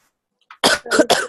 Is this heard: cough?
yes